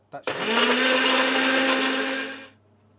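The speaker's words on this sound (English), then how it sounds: "whack the tomatoes in a blender" A blender pureeing tomatoes with water whirs loudly and steadily for about two seconds after a brief start-up, then spins down to silence.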